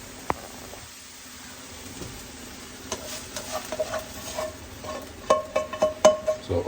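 Seasoned beef mince sizzles in a pan with onions and mushrooms, with stirring scrapes building into a rhythmic series of loud strokes over a continuous frying hiss.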